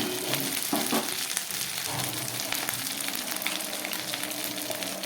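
Coriander powder and ginger sizzle in hot oil in a pan for a fish curry, giving a steady, crackling fry with a few stirring scrapes near the start.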